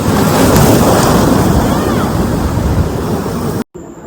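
Ocean waves washing in at a beach in Goa, a loud continuous rush of surf mixed with heavy wind buffeting the microphone, cut off abruptly near the end.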